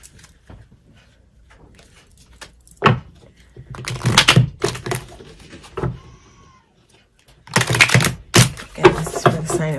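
Tarot cards are shuffled in quick bursts of crisp riffling and slapping, separated by quiet pauses, with a voice speaking briefly between them.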